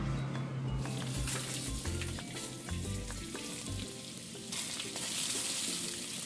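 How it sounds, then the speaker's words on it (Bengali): Papaya and red potato frying together in hot oil for Bengali sukto, a steady loud sizzle with occasional scraping stirs and clinks of a utensil against the pan, no talking. "এখানে পেঁপে আর লাল আলুটা আমি একসাথেই ভেজে নেব।"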